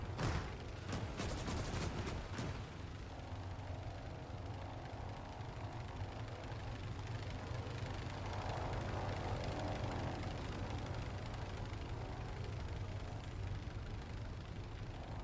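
A tractor engine idles steadily in the WWII strategy game Gates of Hell: Ostfront, set on a snowy Eastern Front, its low rumble running continuously beneath distant bursts of gunfire and battle noise.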